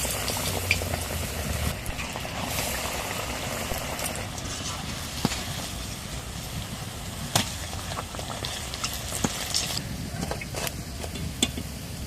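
Aloo chop potato fritters bubble and crackle in hot oil, a continuous close frying hiss with scattered sharp pops and spits throughout.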